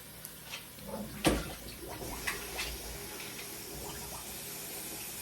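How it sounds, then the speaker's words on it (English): Water runs steadily and softly from a tap while cooked noodles are rinsed and drained for stir-fried noodles, with a sharp clunk early on and a few small knocks. "I'm gonna rinse now. I'm gonna drain the noodles."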